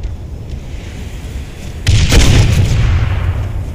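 A rocket or grenade launcher blast in a shooter video game hits suddenly after a quiet stretch, one loud booming explosion whose rumble and crackle linger for over a second.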